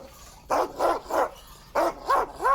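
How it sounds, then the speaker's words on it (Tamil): A powerful chained farm dog kept in a cage barks five times in two quick bursts, loud and close, with short gaps of quiet between barks. "நல்ல ஃபோர்ஸான நாய்."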